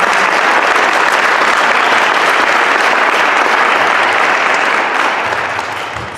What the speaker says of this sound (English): So nice round of applause for